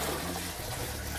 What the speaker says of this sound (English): And just do it by just pouring the water